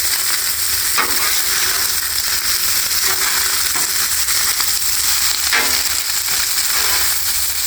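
Shredded cabbage and noodles sizzle steadily on a hot flat-top griddle, with scraping and tossing sounds as they are stirred and mixed, loud and close.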